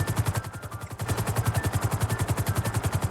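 Helicopter flying in GTA V, its rotor chopping in a fast, steady rhythmic thump with a whining turbine tone above, loud and continuous throughout.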